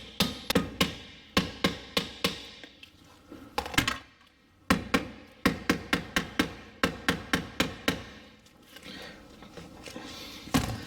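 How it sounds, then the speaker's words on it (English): Repeated sharp hammer blows ring out in quick bursts, metallic and loud, driving a part out of an electric steering rack, with a brief pause midway before the rhythmic striking resumes. "we're gonna use this hammer and just kind of drive this out"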